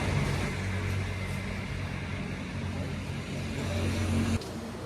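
Royal Enfield motorcycles arriving and lining up at a group ride gathering: a steady, loud engine drone with low rumbling throb continues throughout, dropping slightly at the very end, with faint voices mixed in.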